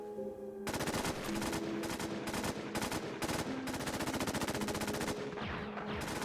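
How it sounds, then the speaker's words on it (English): Loud, rapid bursts of automatic gunfire in a shooter video game, several long rattling volleys separated by short pauses, close and dominant from start to finish. "He's burst firing over there."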